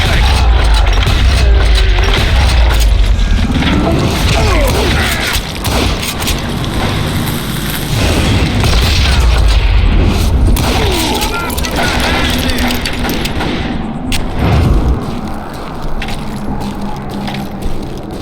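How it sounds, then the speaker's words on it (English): A Gatling gun in the western shooter Call of Juarez Gunslinger hammers out sustained, heavy rapid fire with booming impacts and rattling debris, loud and close, easing off near the end, with a voice briefly under it. "Kid Curry opened up on me with a goddamn Gatling gun"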